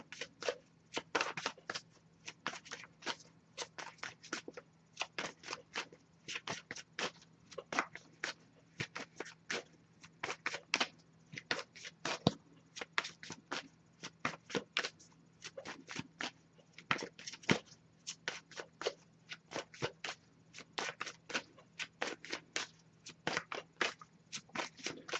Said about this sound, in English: nothing coming up yet, but I'll give it a few more shuffles